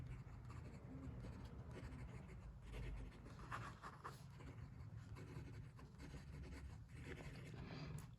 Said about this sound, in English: Quick writing.